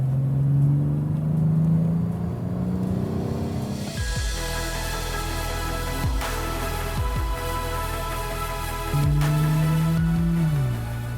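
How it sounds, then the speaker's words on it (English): A BMW 840i sports car engine in Sport Plus mode revs loudly up close, a steady low drone rising into strong throttle blips and sustained higher-pitched revving, with a few sharp gear-change dips along the way. "put it not just in Sport, but in Sport Plus, and then the engine starts to really sing"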